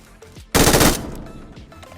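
Burst of machine gun fire in the mobile battle royale game BGMI (PUBG Mobile), a loud dense rattle of rapid shots lasting about half a second, followed by softer trailing gunfire and game ambience.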